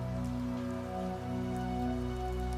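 A rain sound effect for a horror story plays as a steady, dense patter over a low continuous hum, even in level throughout, with no voices.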